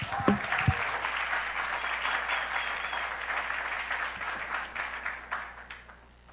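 Church congregation applauding together, a dense, steady wash of clapping that holds for several seconds before tapering off at the end.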